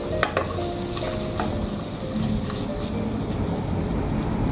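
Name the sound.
fish heads frying in a pan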